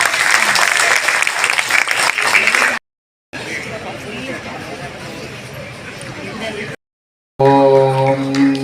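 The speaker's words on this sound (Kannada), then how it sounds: "ಚಪ್ಪಾಳೆ ತುಂಬಾ ಕಡಿಮೆ ಆಗ್ತಾ ಇದೆ" Applause from an audience at a cultural program at KLE College: clapping fills several stretches, separated by brief cuts, with crowd murmur and a loud voice or music at the close.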